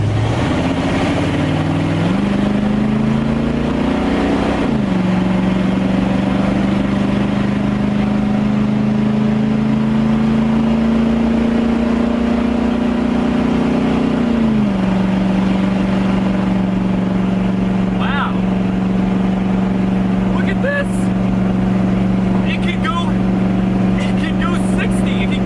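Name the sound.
Ford Bronco 1980s V8 engine with open headers driving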